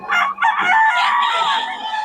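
Roosters and chickens at a market in Bocaue crow and cluck loudly and close by, a dense continuous chorus of overlapping calls, with faint voices underneath.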